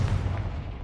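A Confringo blast spell fired in the Hogwarts Legacy video game: a short, dense, booming burst with heavy low rumble that decays over under a second, alone with no talk.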